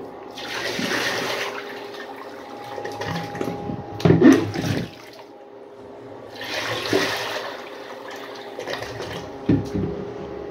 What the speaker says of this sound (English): we're gonna do a bucket flush